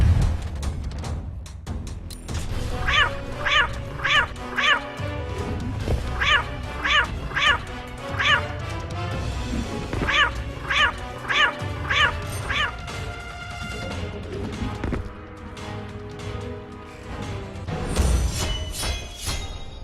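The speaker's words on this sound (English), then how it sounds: "You have to meow 25 times to get a star." Cartoonish cat meows from Catwoman's cat in the Injustice video game's Star Labs mission, repeated in quick bursts of three to four over steady game music, with a final cluster near the end.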